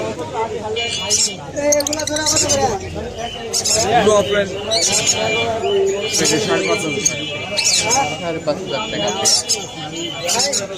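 Lovebirds chirp and chatter in a pet bird shop, a busy layer of bright, sharp calls from many birds, with people talking throughout over the birds.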